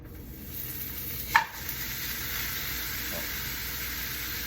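Burger patty laid into a pan greased with butter or olive oil, a steady broad sizzle with a sharp clink as it goes down, then continuous frying hiss.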